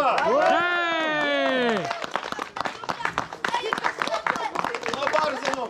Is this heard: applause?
yes